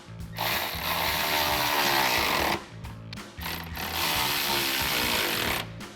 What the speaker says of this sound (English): we'll use an 11mm socket and an 11mm wrench to tighten up the 2 smaller bolts on that bracket